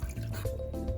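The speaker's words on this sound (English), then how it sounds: "we're gonna pour this mixture into the food processor or blender" A lemony vegan pepper jack cheese mixture pours into a blender or food processor, a short close liquid glug and drip with squishy splashes lasting about a second.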